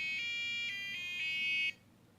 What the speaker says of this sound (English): this goes to the buzzer